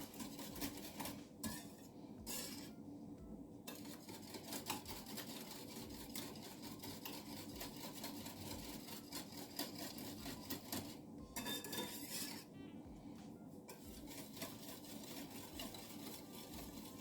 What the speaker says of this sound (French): Et on mélange, on continue à mélanger avec le fouet.